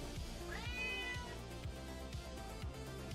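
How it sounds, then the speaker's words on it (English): An elderly cat gives a single short meow early on, fairly faint against a constant low hum and a repeating low thudding in the room. "Say hi, Cat"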